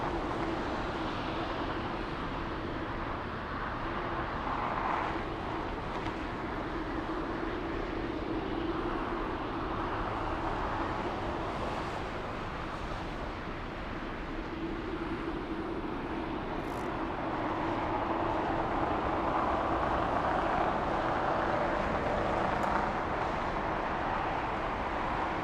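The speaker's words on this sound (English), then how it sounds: "let's go for the Korean A380 racing down the runway" A Korean Air Airbus A380 takes off down the runway, a steady, sustained jet engine roar at a distance that holds loud and broadband throughout, with no voices.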